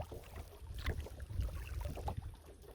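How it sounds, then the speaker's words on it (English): A kayak runs through small river rapids on a foggy morning, with splashing water and paddle strokes in an irregular, moderately loud wash over low rumbling wind noise. "Just hitting a little bit of rapids here"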